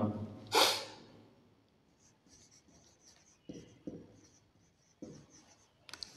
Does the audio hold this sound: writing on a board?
yes